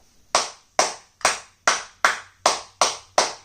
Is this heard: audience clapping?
yes